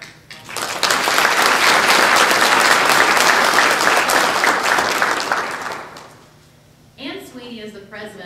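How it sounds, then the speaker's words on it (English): Banquet audience at a school STAR student and teacher awards event breaks into sustained applause, loud and dense for about five seconds before fading, with a voice beginning to speak at the end. "Let's give them a round of applause."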